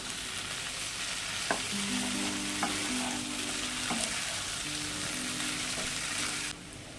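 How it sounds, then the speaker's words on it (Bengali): Pre-fried jackfruit and potatoes are stir-fried in a spice masala, giving a continuous close sizzle with a few spatula knocks and scraping strokes, cutting off abruptly near the end. "ভেজে রাখা এঁচড় আর আলু সঙ্গে আরো পাঁচ মিনিট কষে নেব"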